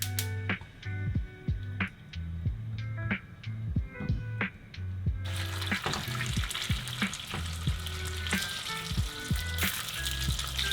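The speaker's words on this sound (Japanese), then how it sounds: "フライパンに油を1センチ程度引いて揚げ焼きにします。" Food shallow-frying in a frying pan with about 1 cm of oil, a steady sizzle that grows denser and brighter partway through, with light clicks and taps of utensils over a repeating musical tone in the background.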